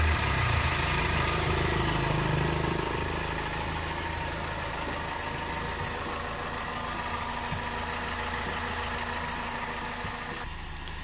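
A used car's 1.8-litre engine idles steadily with an audible exhaust note, a continuous low rumble that stays close and fairly even, easing slightly in level after the first few seconds.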